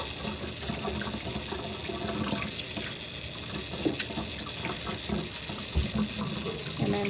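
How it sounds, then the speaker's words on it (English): Cold tap water runs steadily over a fish being rinsed for a Vietnamese tomato fish soup, a constant close splashing hiss with faint clinks of handling. "I'm just gonna rinse it off with some cold water."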